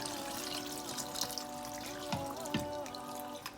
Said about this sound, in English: we're going to be adding some water from the blender